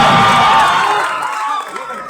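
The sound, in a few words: audience applause and cheering at a seminar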